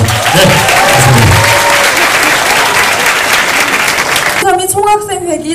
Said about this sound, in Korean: 그런 마음으로 담아서 박수 부탁드리겠습니다